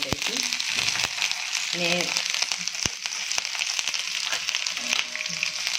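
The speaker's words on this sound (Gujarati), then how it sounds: "આપણી સિંગ ફ્રાય થઈ ગઈ છે। આમાં આપણે આદુ મરચાંની પેસ્ટ એડ કરી દઈશું" Ginger-chili paste hits fried peanuts in a hot pan, a dense close sizzle running throughout with sharp clicks of a spoon and a voice speaking briefly.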